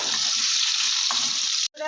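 Salted boiled potatoes frying in a pan, a dense continuous close sizzle with a brief stir, cutting off abruptly near the end.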